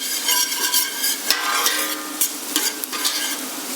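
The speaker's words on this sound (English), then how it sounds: "the onions are starting to sizzle" Onions fry in hot oil with a continuous close sizzle and crackle, while a utensil scrapes and stirs them in the pan in short repeated strokes.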